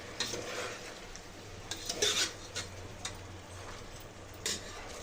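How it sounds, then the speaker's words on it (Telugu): A spoon scrapes and rubs through a thick biryani masala with green chillies, mint and coriander in a pan, soft irregular scraping strokes, close but quiet, no voices. "ఇదంతా బాగా మిక్స్ చేసుకోవాలి"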